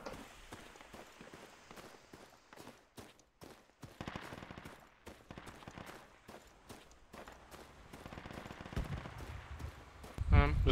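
MG3 machine gun fire in the Project Reality military shooter: rapid bursts of shots rattle through the scene, some distant and some close, mixed with running footsteps and voices talking, and grow louder near the end.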